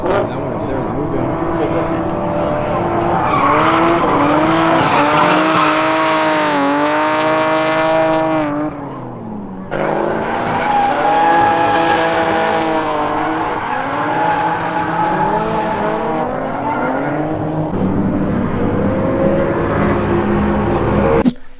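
A car drifting in a drift area, with long wavering tire squeals and a roaring engine that cut out briefly midway, loud and close, with voices talking underneath.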